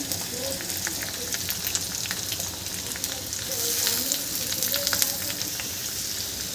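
Onion and bitter gourd frying together in a pan for a dry bhaji, a continuous close sizzle with light crackling and occasional stirring.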